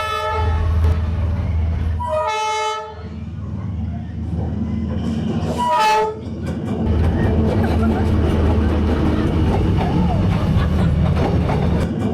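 A train rumbles through a narrow residential street in Hanoi, lined close on both sides, sounding two loud horn blasts a few seconds apart over a heavy, continuous roar of wheels and carriages passing right beside the listener.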